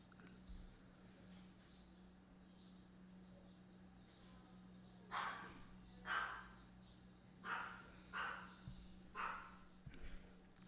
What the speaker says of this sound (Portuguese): Se ouvir o cachorro latindo aí